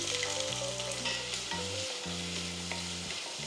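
Two medium onions fry and are stirred in hot coconut oil inside a pressure cooker, a steady soft sizzle running under prominent background music.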